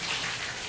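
A power washer sprays water onto house gutters, a steady broad hissing rush that is loud and close, running continuously with no pause and no voices.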